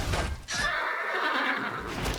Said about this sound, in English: All right, you guys kill the horses.